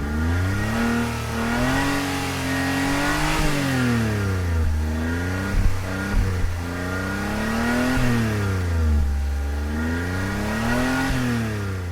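Suzuki Carry KC kei pickup truck engine in Gran Turismo, revving repeatedly up and down in steady, loud rising and falling sweeps with no talk over it.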